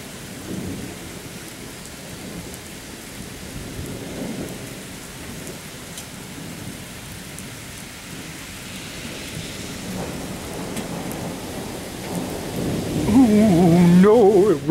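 Heavy rain pouring down steadily with low rolling thunder swelling underneath, building louder toward the end, no voices.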